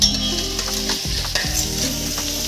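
Snake gourd sizzling in a pan while being stirred, a close, steady frying crackle with scraping strokes of a utensil.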